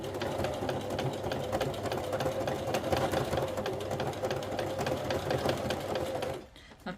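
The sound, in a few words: sewing machine sewing mini zigzag stitch in a circle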